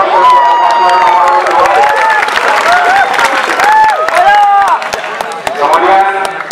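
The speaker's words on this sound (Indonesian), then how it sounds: "Kita berikan aplaus untuk paslon nomor" A school audience at a student council candidate debate at MA Mu'allimin NWDI Pancor gives loud, continuous applause and cheering, with clapping and shouting voices all through.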